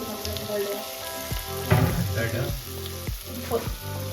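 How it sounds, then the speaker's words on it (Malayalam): Chopped tomatoes sizzle in hot oil in a pan for a creamy fish mappas curry, with steady frying crackle and several sharp scrapes and knocks of a spoon stirring, close and moderately loud, no talking. "അപ്പൊ അതിങ്ങനെ ഇളക്കി നന്നായി തക്കാളി സോഫ്റ്റ് ആവണ വരെ നമുക്ക് ഇതൊന്ന് ഇളക്കി കൊടുക്കുക."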